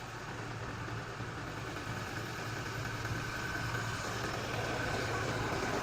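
A Ford vehicle's engine idles with a steady, even hum that holds at the same level throughout, heard up close in a repair shop with no talking over it.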